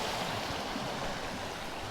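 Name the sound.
creek flowing at Lilydale Falls, Tasmania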